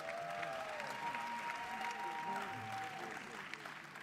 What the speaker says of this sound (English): Let's give Virgie Rollins another round of applause.